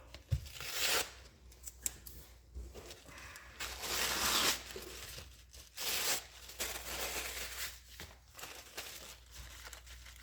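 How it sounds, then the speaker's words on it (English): Masking tape is torn off the roll in several short ripping and crinkling bursts, fairly faint and close, separated by quiet handling noises while no one speaks. "Just use some masking tape."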